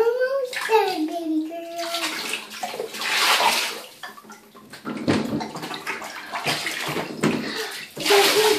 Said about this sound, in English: wash her a little bit more